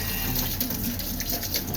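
Water steadily filling a drinking container at home, a continuous close gushing pour with no talk over it.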